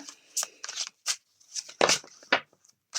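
A deck of cards being shuffled in short irregular bursts of riffling and flicking, close and crisp, separated by brief pauses.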